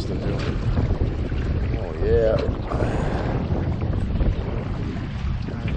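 Wind and river current rush steadily around a Grumman 129 solo canoe on a rocky smallmouth bass river, a constant broadband wash with a brief voice exclamation partway through.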